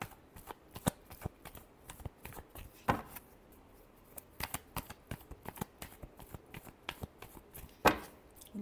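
Tarot cards are shuffled by hand in a steady run of crisp, riffling flicks and soft taps, close and fairly quiet, with no talking.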